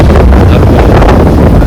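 Strong storm wind buffeting the microphone in a loud, continuous roar with a deep rumbling low end and no letup.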